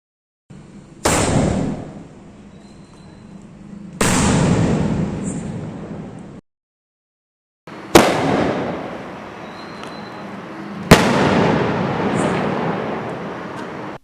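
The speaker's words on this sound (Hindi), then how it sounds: "का 3 इंच का स्काई शॉट जिसका नाम है रॉकिंग टॉम" An Ayyan Fireworks Rocking Tom 3-inch sky shot fires outdoors, giving four sharp launch cracks, each followed by a lingering rumbling burst and crackle, with brief quiet gaps between.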